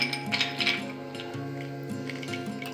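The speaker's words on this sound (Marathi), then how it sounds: "बर्फाचे गोळे टाकणार आहोत" Ice cubes dropped into a chilled malai lassi made from whisked curd and sugar, giving a few light, close clinks early on over a steady background of music.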